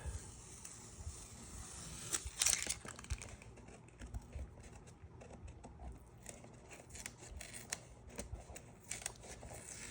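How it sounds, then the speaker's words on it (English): Tape being peeled off a freshly painted Darth Vader mask, a quiet run of crackly, tearing rasps and small ticks, with one louder rip near the start, close by with no talking. "the last part is probably the most satisfying, peeling the tape"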